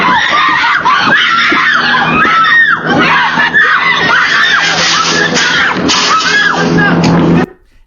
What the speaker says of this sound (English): And you can hear the women screaming